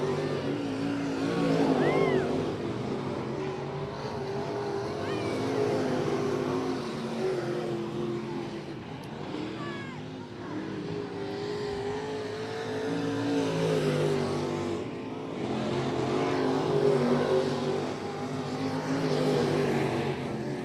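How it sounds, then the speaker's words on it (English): Race car engine of the number 89 machine at I-37 Speedway bouncing off the rev limiter, a sustained loud roar with slight RPM bobble, other cars droning nearby and a voice talking over it. "You hear a little bit of bobble in the engine RPMs of the 89 machine."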